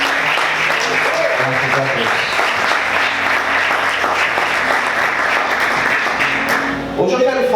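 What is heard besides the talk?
congregation applauding in church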